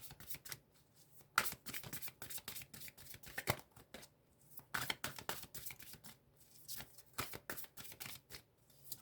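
A deck of oracle cards is shuffled by hand in close, crisp bursts of riffling and snapping, with short pauses between rapid rounds.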